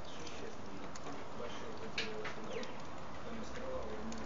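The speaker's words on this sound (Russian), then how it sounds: "Птички поют." Outdoors on a cold, overcast day, birds sing and a pigeon coos softly at a distance, short calls scattered over a steady background hiss.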